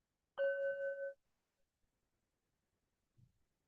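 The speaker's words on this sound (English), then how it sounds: "And then coming back on the sound of the bell." A meditation bell gives a single clear ring with a pure sustained tone lasting under a second before cutting off, then near silence apart from a faint soft thump.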